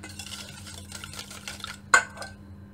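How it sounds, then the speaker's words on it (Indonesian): Eggs being whisked in a bowl for mini pie brownies, a run of quick, light scraping taps against the bowl that swells and fades, with one sharper knock of the whisk on the rim near the end. "whisk this 2 eggs together with sugar. But first I'm going to whisk this one first."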